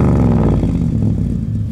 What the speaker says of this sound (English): Gloria, give it a good rev.